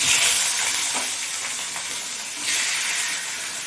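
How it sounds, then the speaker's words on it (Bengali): Fish heads rubbed with salt and turmeric fry in oil in a wok, giving a loud, continuous close-up sizzle and hiss that swells briefly partway through, with no talking. "মাছের মাথাগুলো আমি ভেজে নেব।"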